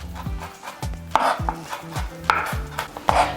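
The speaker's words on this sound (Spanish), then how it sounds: "Ahora cortamos nuestro ajo muy finamente." A knife finely chopping garlic on a cutting board for a vegetarian Christmas cream soup, a steady series of close, crisp taps at a relaxed, even rhythm, with no talking.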